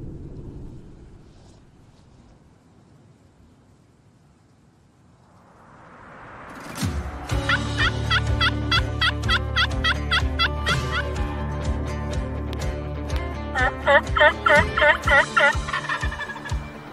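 A wild turkey in a Quebec hunting setting gobbles repeatedly in loud, rapid rattling bursts that start partway through and grow more frequent over a low rumbling background, with no talk.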